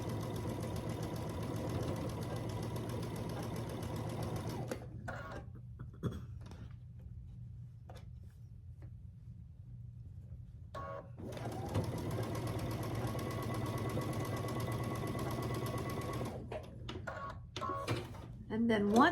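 A sewing machine stitches a row of quilt blocks in a steady mechanical whir, stops briefly, then runs again, fairly quiet and close, with someone talking over parts of it.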